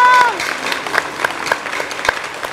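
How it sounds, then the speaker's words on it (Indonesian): Studio audience on an Indonesian talk show claps in a loose, sustained burst, with voices and brief tonal sounds mixed in over it. "tepuk tangan dong"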